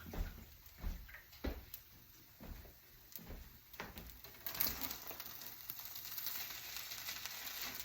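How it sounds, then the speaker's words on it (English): Rice and meat sizzle softly in a pan, with intermittent scraping stirs and knocks in the first half, then a steadier, louder frying hiss for the rest. "I'm going to add the meat to the rice for the final stage of cooking"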